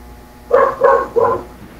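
A neighbour's dog barks three times in quick succession, loud and fairly close, each bark short and sharp against a quiet background.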